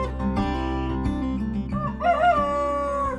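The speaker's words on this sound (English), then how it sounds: "He's the only rooster in there." A rooster on a rural livestock farm, heard in a harmonic, sustained burst with several crowing-like rises over about three seconds, loud and close, with no talking over it.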